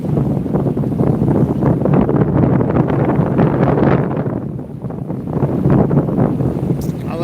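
Strong wind buffets an open outdoor spot, roaring loud and close with gusts that swell and ease, and it stays constant throughout.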